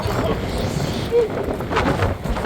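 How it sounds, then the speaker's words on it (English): Strong wind gusting outdoors in Tulsa, a loud continuous rush buffeting close to the microphone, with a person's voice over it. "It is so windy out here."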